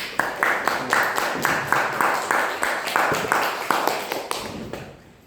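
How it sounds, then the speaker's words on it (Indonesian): An audience claps in a rhythmic, even applause after a presentation, with regular sharp beats throughout before it fades out at the end. "kita beri aplaus"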